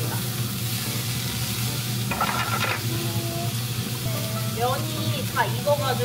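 Beef and broccoli stir-fry in a pan with a steady, even sizzle, while occasional utensil scrapes and a few short voice sounds rise over it.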